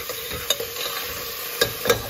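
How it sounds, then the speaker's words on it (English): Grains roasting in a pan for Brussels sprouts khichadi, stirred with a utensil: a steady low sizzle with a few sharp scraping clicks of the spoon against the pan, close and with no talk. "So that's why you have to roast them a little bit nicer."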